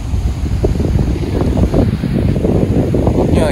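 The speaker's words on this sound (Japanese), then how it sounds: "今は強風域に入っております。" Strong typhoon wind sweeps over the sea in front of a house on Tokunoshima, a loud continuous low roar with surf and gusts buffeting the microphone throughout.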